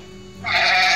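A sheep bleats once, a single drawn-out, fairly loud call that swells in and holds steady to the end, heard alone.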